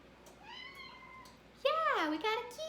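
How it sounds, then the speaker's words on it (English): A kitty meows indoors, first a soft drawn-out call, then a louder, rising and falling meow close by, set against a quiet room. "But look, we've got a kitty."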